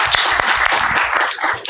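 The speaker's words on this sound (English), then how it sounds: "I think the speakers and the chair deserve a round of applause" An audience at a technical conference session on urban freight and logistics breaks into steady, dense applause, many hands clapping continuously and fairly loudly with no voices over it.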